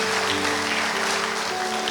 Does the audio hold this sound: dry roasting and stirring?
no